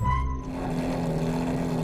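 A McLaren Formula 1 car engine hums at a steady, high-pitched drone after a brief higher tone at the start, loud and continuous for under two seconds, with no talk.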